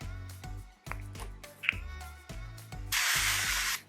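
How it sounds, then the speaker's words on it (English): Cooking spray hisses into a pan in one sustained, close burst lasting about a second, coming after a stretch of someone speaking. "And I'm gonna do a little bit of cooking spray."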